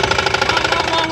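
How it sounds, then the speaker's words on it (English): Off-road side-by-side UTV engine running right after starting, a loud, close, rough rapid chugging with a steady knocking pulse throughout. "Okay, I'm gonna start it."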